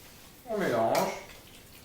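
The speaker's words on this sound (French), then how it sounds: "On mélange." A spoon stirs a turkey blanquette mixture in a Cookeo multicooker pot, one short scraping, sloshing swirl lasting about a second, close and moderately loud, with a small clink at the end.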